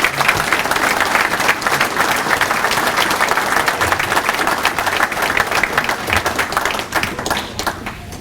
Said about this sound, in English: So if we could get a round of applause for the staff.